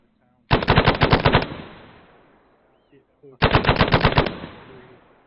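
Two sharp bursts of machine gun fire in the military video game Arma, each a rapid string of about eight close, loud shots with a fading tail, separated by a short quiet gap.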